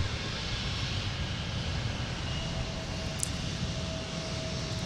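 A jet airliner rolls for takeoff on runway 17 at Minneapolis–Saint Paul airport, a steady broadband engine roar held at even loudness throughout, with no voices.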